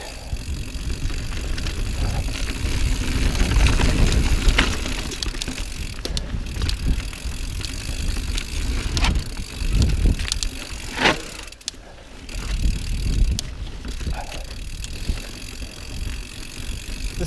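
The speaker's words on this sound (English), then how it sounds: "That's a light bike coming downhill." A light 2018 Rocky Mountain Instinct mountain bike rolls downhill on a trail, with steady tyre rumble and rattle and wind buffeting the microphone throughout, plus a few sharp knocks from bumps along the way.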